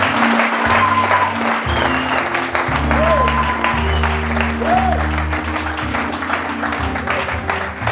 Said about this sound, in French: Est-ce que quelqu'un peut acclamer maintenant?